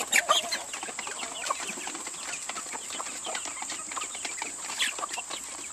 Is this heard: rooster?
yes